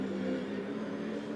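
A 2003 V8 Supercar reversing out of a tyre barrier at turn 4, a brief steady engine drone heard at a distance, even and unbroken.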